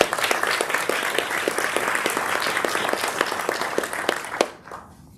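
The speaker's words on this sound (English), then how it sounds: "Please join me in a round of applause for these members" A round of applause at an AFC town hall for recognized staff members, moderately loud, with distinct individual claps audible within the steady patter, ending abruptly after about four and a half seconds.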